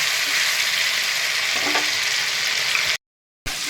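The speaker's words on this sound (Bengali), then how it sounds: "মশলাটা আমার প্রায় ভাজা ভাজা হয়ে গেছে, দেখো সুন্দরভাবে তেল ছাড়ছে।" Cashew, raisin and poppy seed masala paste with green chili fries in oil for a vegetarian doi paneer curry, giving a steady, close, dense sizzle with faint stirring scrapes, then cutting to brief silence before the sizzle returns.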